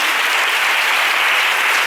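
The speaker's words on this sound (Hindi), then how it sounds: "तालियां बजाते हुए उसके हजूर में खड़े हैं" A church congregation claps steadily during a Holy Spirit worship service, a dense, loud wash of applause that continues unbroken throughout with no voices over it.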